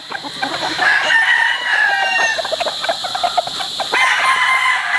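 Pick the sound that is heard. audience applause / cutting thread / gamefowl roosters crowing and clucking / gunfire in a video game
gamefowl roosters crowing and clucking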